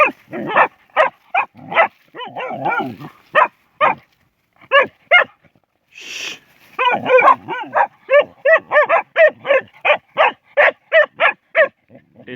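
Dogs bark rapidly and repeatedly up close, loud sharp yaps in quick runs with a few brief pauses.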